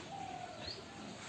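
A pigeon coos faintly in the distance, a soft, brief call against quiet background noise, with no voices.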